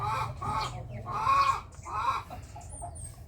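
A red queen hen, 2,100 grams and seven months old, clucks repeatedly in a series of close, throaty calls that rise and fall over a couple of seconds.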